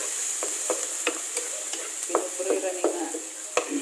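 Garlic frying in a pan for chicken spaghetti, a steady hiss of sizzling with a few sharp scraping stirs of a utensil, close and moderately loud with no talking.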